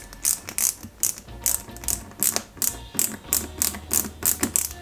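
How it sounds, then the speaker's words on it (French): Two Eaglemoss Ghostbusters Ecto-1 model car parts are joined with small screws, making rhythmic ratcheting clicks in regular bursts as the screwdriver turns, close and fairly loud. "on va assembler les deux pièces entre elles avec deux vis"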